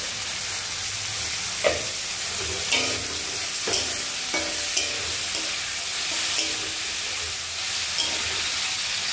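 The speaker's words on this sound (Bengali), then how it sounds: "আদা রসুন পেঁয়াজের পেস্টটাকে দিয়ে দিলাম।" Ginger, garlic and onion paste fries in a pan with a steady broadband sizzle, while a spoon scrapes and taps the pan in irregular knocks every second or so, close and moderately loud.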